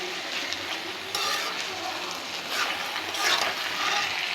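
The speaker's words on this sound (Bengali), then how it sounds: "ভাজা ভাজা করে নেব।" Food sizzles loudly and constantly in hot oil, with stirring sounds coming and going over the frying and no voices.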